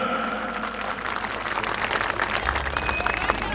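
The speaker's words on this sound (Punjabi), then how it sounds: "ਜ਼ੋਰਦਾਰ ਤਾੜੀ ਹੋਣੀ ਚਾਹੀਦੀ ਹੈ" A crowd at an annual religious fair applauds honoured guests with a dense, continuous wash of clapping that holds steady and swells slightly toward the end, with voices faintly mixed in.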